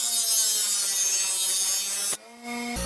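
A lawn mower blade ground on a bench grinder gives a loud, steady abrasive whine with a humming tone, cutting out briefly near the end before resuming.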